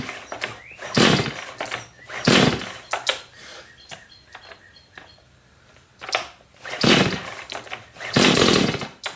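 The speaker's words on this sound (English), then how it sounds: "my chainsaw is now ready to go" A Stihl MS 180 C-BE chainsaw, being started with the choke, sends out several short, loud, raspy bursts of engine noise close by, separated by quieter gaps.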